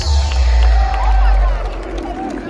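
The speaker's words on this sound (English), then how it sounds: "Let's give them a round of applause." Crowd at a Prince celebration in his hometown of Minneapolis cheers and applauds loudly, with whoops and a babble of voices rising over a steady roar before easing slightly toward the end.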